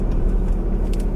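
A Nissan 300ZX fitted with a lightweight flywheel rumbles low and steady under revs, heard close from inside the car in a short continuous burst.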